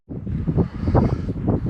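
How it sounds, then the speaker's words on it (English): Gusty outdoor wind buffets the microphone beside a 1970 Hough H60 front end loader, a loud, low rumbling roar that surges and dips in uneven bursts with no other clear sound. "Sorry for the wind, I can't help it. Mother Nature sucks."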